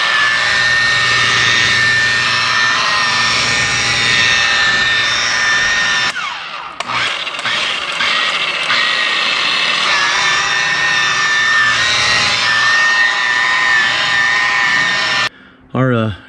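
A DeWalt variable speed polisher buffs boat gelcoat with a loud, steady high whine that drops out briefly partway through, then spins back up before cutting off, with a person talking over it.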